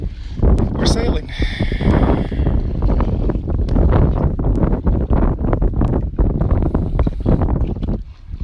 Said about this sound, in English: It's a beautiful breeze.